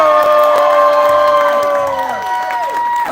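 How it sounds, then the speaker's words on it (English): A crowd at an outdoor polka concert in a park cheers and whoops loudly, with clapping mixed in, over a short burst that eases slightly toward the end. "Let's have another round of applause for them."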